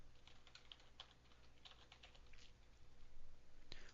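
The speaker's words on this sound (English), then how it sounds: "To add text to a web page, simply click into the place in the page where you'd like the text to appear," Keys clatter in quick uneven bursts on a computer keyboard as web page text is typed in, with a few sharper clicks standing out near the end, fairly quiet and without speech.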